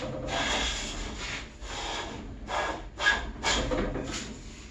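Small hand plane jointing the edge of a wooden board, taking light passes with little iron showing: six or so rhythmic hissing strokes, close and steady, each a soft scraping swish of blade on wood, with no voices.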